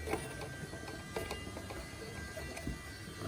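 Plastic clip being unscrewed beneath a Scalextric C4479 Thunderbirds FAB1 car box: quiet ratcheting clicks and small mechanical turns, close and fairly soft, with no talking.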